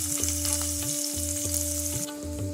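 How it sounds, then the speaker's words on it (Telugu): Onions with half a teaspoon of turmeric frying in a pan: loud, continuous sizzle and crackle with rhythmic stirring scrapes, close up, alongside a steady hum, no voices. "ఇది ఉల్లిగడ్డలు కొంచెం వేగినాయండి."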